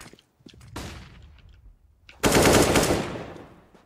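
FAMAS rifle fire in the video game CS:GO: scattered quieter in-game clicks and noises, then a loud close automatic burst of rapid shots lasting under a second and tapering off, with no speech.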